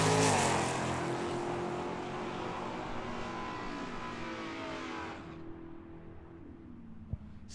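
Mopar drag racing cars launching at Tucson Dragway, a loud engine roar that fades as the cars run away down the track, then cuts off sharply, leaving quiet background noise and one brief click.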